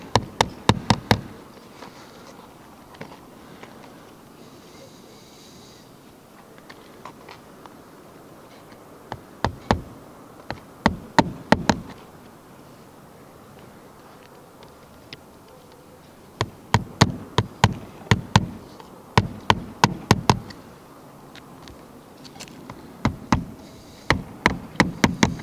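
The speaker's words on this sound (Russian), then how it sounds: "Забиваем уже не пневмопистолетом, а обычным молотком" Hammer blows driving nails into flexible bitumen roof shingles, struck by hand in quick bursts of sharp knocks separated by quiet pauses, close and fairly loud, with no talk.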